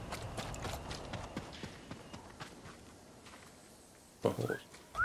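A horse's hooves clip-clop in the game Nioh, quick soft steps near the start that fade out, followed by a short louder rustling burst near the end.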